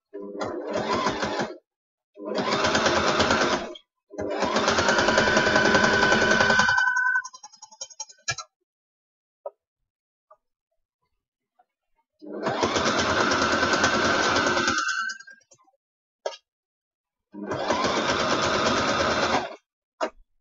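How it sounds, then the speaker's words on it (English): A sewing machine sews straight seams in several loud bursts of fast, even stitching separated by silent gaps, with a few faint clicks in between. "all I'm doing on this is just sewing straight lines"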